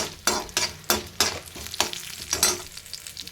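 Urad dal and dried red chillies stirred in a frying pan, a spatula scraping in about six regular strokes over a steady sizzle of hot oil, close and fairly loud, with no talking.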